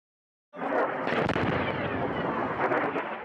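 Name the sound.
missile explosions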